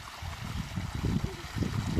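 Irrigation water runs through a farm field, a continuous low gurgling flow that is close and moderately loud, with no other sounds.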